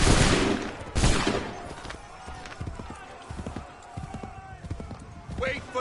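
Musket fire in Assassin's Creed 3 Remastered on PS5: a volley of gunshots at the start, a second burst a second later, then scattered lighter shots and clopping hooves under talk.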